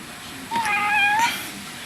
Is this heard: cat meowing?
yes